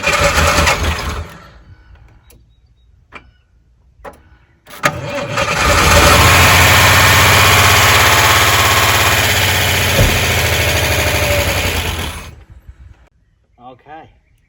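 A 1987 Ford Bronco II engine cranks, then catches and runs roughly for several seconds at a loud, steady idle before cutting out, with brief cranking and clunks before it starts and scattered voices around it.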